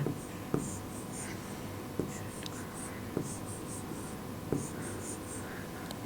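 Marker or chalk writing on a board in a classroom lesson on area and perimeter: soft scratchy strokes with periodic taps, close and faint above a constant room hum.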